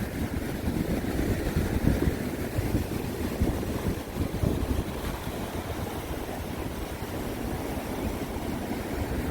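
Big winter sea waves surge over the rocks at Yeonggeumjeong near Dongmyeong Port, a constant loud roar of churning surf mixed with wind rumble on the microphone.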